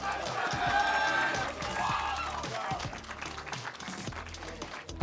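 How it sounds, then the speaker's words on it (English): A crowd at a Street Fighter 6 tournament top 8 finals claps in a sustained round of applause, with voices mixed in and the noise tapering slightly toward the end. "Give him a round of applause."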